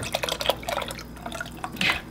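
Half and half pours in a thin trickling stream into a pot of crab bisque, with soft drips and liquid splashes building to a brief fuller gush near the end.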